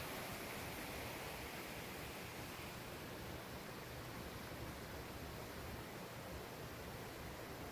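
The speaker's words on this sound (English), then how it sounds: "In this case, there's a bit of a utilitarian purpose for this artificial waterfall." Water pours steadily down an artificial waterfall cascade fed by a karst spring, a dense, unbroken rushing roar that holds at the same loudness throughout with no voices.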